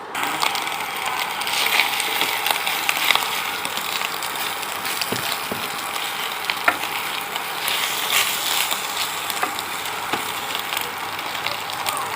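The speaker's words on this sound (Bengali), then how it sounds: "এর মধ্যে আমি সবজিগুলোকে ফ্রাই করব।" Vegetables frying in oil in a hot kadai for dry Maggi noodles, a loud, close, continuous sizzle with scattered crackles and occasional stirring clicks, no talk.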